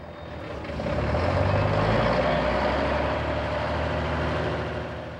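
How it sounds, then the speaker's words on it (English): Heavy lorries rumble past on a road through a village, a deep engine drone that swells as they approach and fades as they go, moderately close with no voices. "Round the clock, it's used as a shortcut by heavy lorries"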